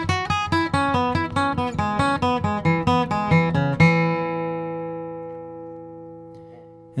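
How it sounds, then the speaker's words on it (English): An electric guitar plays a jazz interval lick in E straight, with no emphasis or inflection: a quick, even run of picked notes that ends on a long ringing chord that fades out. "So if you just played it straight with no emphasis or no inflection, this is what it would sound like."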